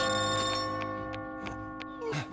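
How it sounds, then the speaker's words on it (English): A bell rings near the exit in the video game Catherine, a sustained, shimmering tone with regular ticking strikes layered over it, fading toward the end. "As you near the top, you will hear a bell ringing."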